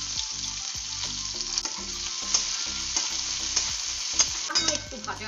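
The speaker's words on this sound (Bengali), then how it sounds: "প্রথমে তেলে দিয়ে দিলাম কুচনো পেঁয়াজ" Chopped onion sizzles in hot oil in a pan, a loud, continuous close crackle with rhythmic stirring strokes scraping through it.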